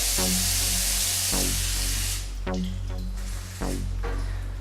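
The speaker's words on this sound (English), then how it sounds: "Gonna wash my hands right quick." Tap water hisses steadily while hands are washed in a kitchen, then breaks into scattered splashes and drips as the flow is interrupted, with no talk.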